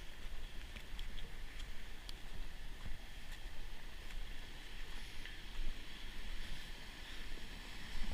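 Flash-flood water rushes down the Whitewater River at Whitewater Preserve as a steady, fairly faint broadband roar with no voices.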